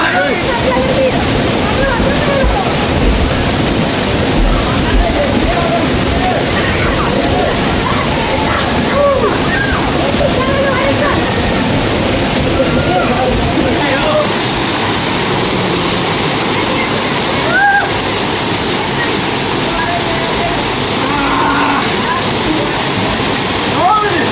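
A waterfall in Ella, Sri Lanka, roars continuously nearby, a dense rushing wash of water with splashes, while people bathing beneath it talk and call out over it.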